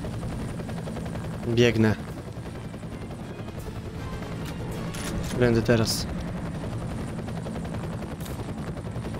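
Evacuation helicopter rotor droning steadily throughout a Polish-language extraction-point shooter game, with two brief louder bursts of action noise, under a player's short speech.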